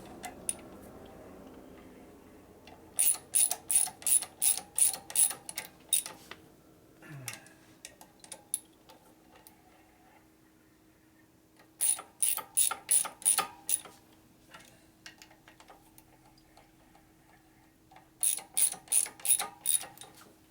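A ratchet tightens a bolt on a Harley Evolution belt-drive transmission in three bursts of rapid, crisp clicks, each around eight strokes, separated by quiet pauses with faint handling noises, close and clear with no talking.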